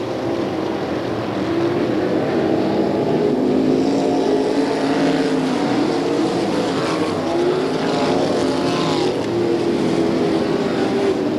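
USAC midget race cars racing on a dirt track, a loud continuous engine roar with rising and falling pitch as the cars push through the turns.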